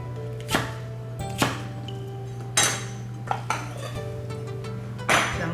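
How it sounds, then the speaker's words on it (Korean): A knife cutting cucumber and cabbage into bite-size pieces on a board, several sharp separate chops and clinks a second or so apart, close, with no talk. "오이 크기에 좀 맞춰서 이렇게 한입 크기로 썰어서."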